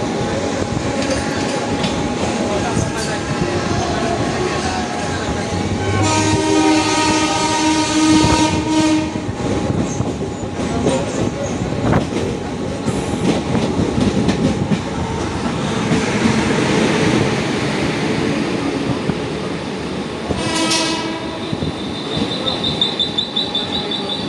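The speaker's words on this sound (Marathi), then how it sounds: "AC ट्रेन आहे. आता आपण पोचतोय दादर स्टेशनला टच होतोय." A Mumbai AC local train rumbles and clatters steadily along the tracks as it arrives at Dadar station, its sound swelling and fading, with a brief horn tone near the end.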